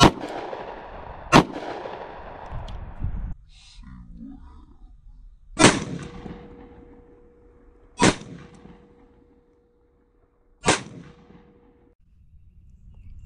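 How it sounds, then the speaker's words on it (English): Sharp, loud gunshots from a SIG X Macro compensated pistol firing Liberty Defense 50 grain +P rounds outdoors, four distinct reports spaced a few seconds apart with some echo, and someone speaking early on. "We're going to be shooting it out of our SIG X Macro compensated."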